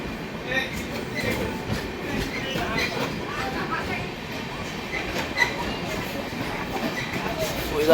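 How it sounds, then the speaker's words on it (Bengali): A moving train rattles along at moderate volume, with a steady low rumble and light clicking from the wheels, heard from inside a carriage. "এই যে ট্রেনটা"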